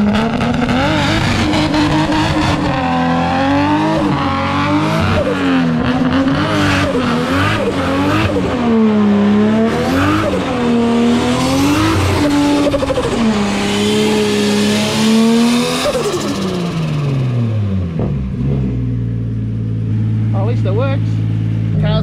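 Nissan S14 Silvia with a freshly tuned RB25DET engine doing a second-gear-drop burnout, the engine screaming at high revs with wavering pitch and rising tire squeal, loud and close, before dropping to a lower idle rumble at the end.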